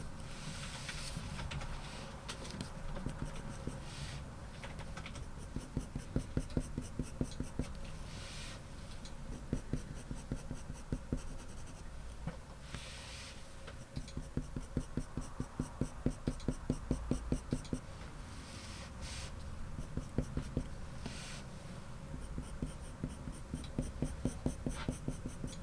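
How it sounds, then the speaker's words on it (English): Colored pencil scratching on paper while shading a penguin drawing, with steady close strokes that turn into rapid firmer back-and-forth scribbling in bursts as pressure increases. "Just increasing the pressure on the pencil to add in a few darker marks here and there as well."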